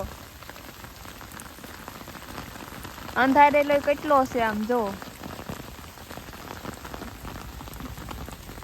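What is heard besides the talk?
heavy rain falling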